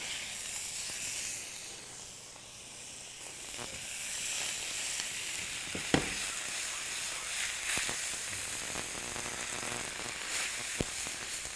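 Butter browning in a hot pan for a Valentine's surf and turf dish sizzles and hisses steadily, with a few sharp pops and spits rising over the constant close-up frying.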